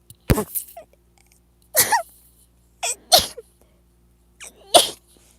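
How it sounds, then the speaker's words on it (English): A person sneezes several times in a row, each burst sharp and close, with brief quiet pauses between them. "Hold on, I have to sneeze."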